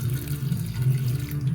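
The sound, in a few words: water being poured into pot of taro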